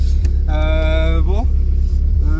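A Caterham 485 S sports car pulling away, its engine rising in a short, bright rev that climbs then drops, close and loud under a voice.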